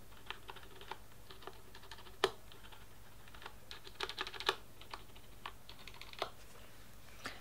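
Typing on a Corsair Vengeance mechanical keyboard with plate-mounted Cherry MX Red switches, a close run of light clacks with a few louder bottomed-out strikes at an uneven pace.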